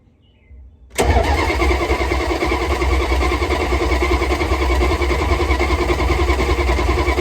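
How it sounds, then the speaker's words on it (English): After a brief quiet moment, a starter motor kicks in and steadily cranks the engine of a 1974 Dodge D100 pickup truck, a loud continuous rhythmic churning that never fires. "let the starter motor turn the engine over without trying to fire"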